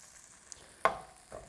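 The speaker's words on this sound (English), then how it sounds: "You can hear it sizzling." Food sizzles in a frying pan as it is stirred and cut up with a utensil: a soft, steady hiss broken by one sharp clatter and a later fainter scrape.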